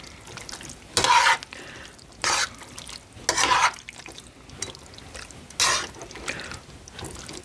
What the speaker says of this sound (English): So before we add too much, give this a stir. Make sure everything's nice and coated.